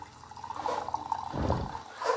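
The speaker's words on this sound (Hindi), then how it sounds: "यहाँ मशीन में ही गर्म पानी निकल जाता है आराम से" Hot water runs from the spout of a home RO water purifier machine, a close, gentle pouring trickle that grows fuller and more gurgling toward the end, with no talk.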